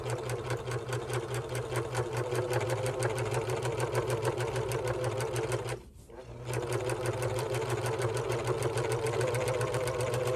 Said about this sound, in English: when you go fast on your serger and you've got some thicker material